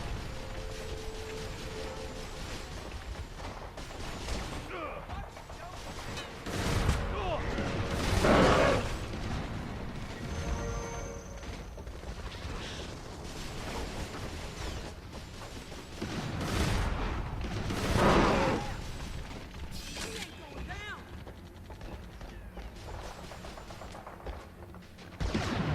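Resistance 3 combat with bursts of gunfire and a couple of heavier blasts over a constant rumbling backdrop of game noise and mechanical clatter.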